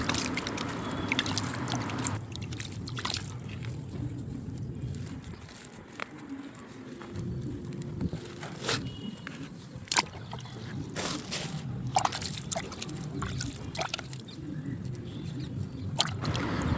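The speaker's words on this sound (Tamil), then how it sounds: "அதுக்கப்புறமா நல்லா தண்ணி ஊற்றி விட்டுக்கணும்" Water poured onto a potted plant after Epsom salt has been added, giving a steady trickle and splash close by. Outdoor ambience with faint bird calls sits behind it.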